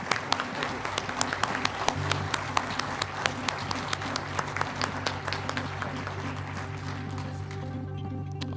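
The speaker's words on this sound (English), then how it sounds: "Let's give him a nice round of applause." Applause from an audience at a Republican U.S. Senate primary forum, a steady wash of many hands clapping that carries on for several seconds and then thins out toward the end.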